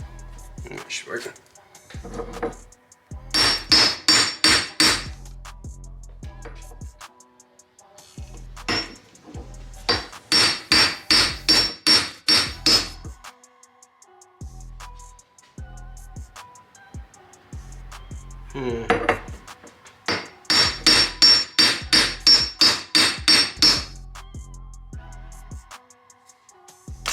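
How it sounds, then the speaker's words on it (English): A hammer pounds a socket to drive out the wheel bearing hub on an old Honda, ringing metal blows landing in three rapid runs of roughly six to eight hits each, close and loud, with someone speaking between the runs. "after hammering it out"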